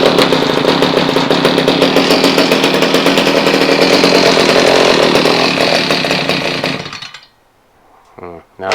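Stihl HS45 hedge trimmer's two-stroke engine running unchoked, a loud steady buzzing roar for about seven seconds before it cuts out abruptly, followed by near silence and a few faint sounds.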